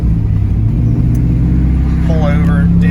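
A Chevrolet Corvette C5 drives along a Pennsylvania road on a hot day, its engine a steady, loud low rumble throughout with a brief rise in pitch near the end; a person talks over it.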